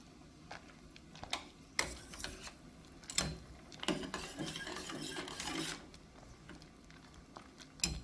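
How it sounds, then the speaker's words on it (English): A spoon stirs a mango and paprika mixture for marinating pork chops in a pot, giving quiet scraping and rubbing strokes with several louder bursts of scraping, close up and with no talking. "So let's just give this a nice little stir to combine everything."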